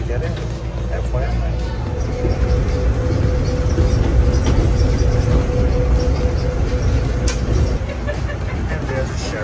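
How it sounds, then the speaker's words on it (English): Steady rumble and road-like roar of the Miami People Mover, an automated elevated train, heard from inside, with people talking over it throughout. "this is the Miami People Mover that's gonna take us to the tri-rail."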